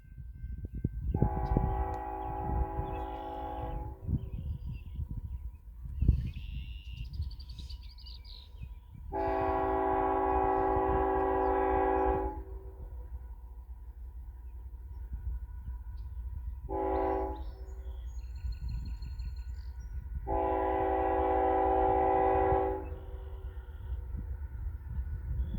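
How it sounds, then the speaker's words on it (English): An eastbound Norfolk Southern priority intermodal train sounds its horn at a crossing near Leipsic Reservoir, Ohio, with four long, loud blasts in a long-long-short-long pattern over the rumble of the train passing close by. "he's gonna honk at the crossing"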